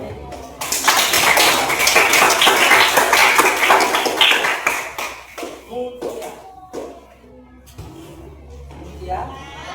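Students in a class clap together in a burst of applause during a physical education lesson, dense at first and then thinning into scattered claps, followed by a teacher and children talking.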